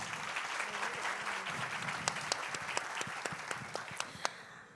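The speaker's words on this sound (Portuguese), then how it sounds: "Palmas para ela." Steady applause from an audience fills the room, a dense wash of clapping with a few sharper individual claps standing out toward the end.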